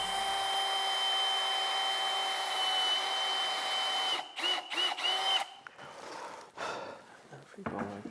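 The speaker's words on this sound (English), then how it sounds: "Let's do some pre-drilling." A power drill pre-drills holes in a coop build on a chicken farm, a steady whining motor running for about four seconds and then breaking into short stop-start bursts, close and fairly loud.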